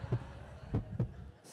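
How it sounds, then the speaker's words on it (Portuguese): Heartbeat sound effect with three dull low thumps, at about 0.1, 0.75 and 1.0 seconds, pulsing over a faint background hum. "200 o batimento do coração."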